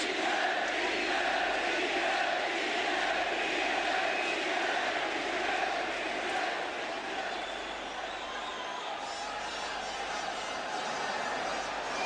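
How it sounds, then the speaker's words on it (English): A big boxing crowd in Belfast waits for Barry McGuigan at a WBA featherweight world title fight against Bernard Taylor, giving a loud, sustained hubbub of massed voices that fills the whole stretch. "the crowd is poised to let itself go when they see Mcguigan"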